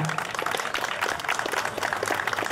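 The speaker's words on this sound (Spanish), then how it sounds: "un fuerte aplauso para recibir a nuestra" An audience at a municipal anniversary celebration in Santa Rita gives steady, dense applause, many hands clapping continuously at moderate distance throughout.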